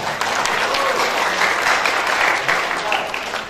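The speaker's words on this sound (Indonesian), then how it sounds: "Tepuk tangan." Seminar audience bursts into dense, steady applause, many hands clapping together for several seconds at close range and tapering slightly at the end.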